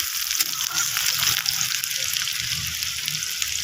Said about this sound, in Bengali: এই তো পেঁয়াজটা ছেড়ে দিলাম।